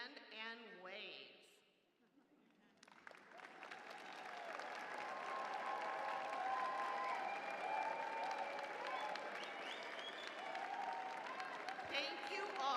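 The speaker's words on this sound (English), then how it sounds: "Thank you all for applauding these loved ones who make our success possible" Graduation audience at a public health school ceremony applauding graduates' families: after a short spoken intro, sustained dense clapping from a large crowd fills the hall for about ten seconds.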